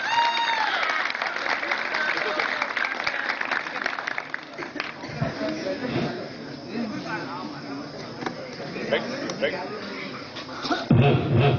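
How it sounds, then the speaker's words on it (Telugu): An audience claps to welcome guests onto the stage at a live event, a rush of applause that thins out while a voice keeps talking over it. "మరి చరణ్ కి శ్రీహరి గారికి క్లాప్స్ కొట్టి మనం వెల్కమ్ చేద్దాం"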